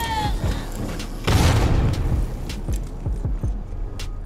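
A thrown bomb bursts in a Last of Us online multiplayer match: one loud dull boom with a rumbling tail, followed by scattered thuds and clatter from the game.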